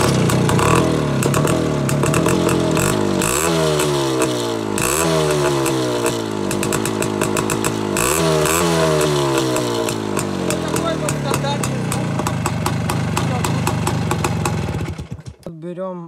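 A Voskhod 3M two-stroke motorcycle engine with its muffler baffles still fitted runs loud and close, revving up and down in repeated swells with a rattly, buzzing tone, then cuts off abruptly at the end.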